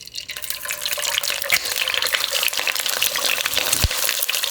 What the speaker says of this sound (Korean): 중식 계란 프라이는 이렇게 웍을 기울여서 고인 기름에다가 문자 그대로 튀겨버리잖아요.